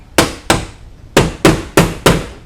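Six sharp taps strike a car side mirror on a 2013 Nissan Altima to loosen it, falling in two irregular groups with short pauses between them, close and clear.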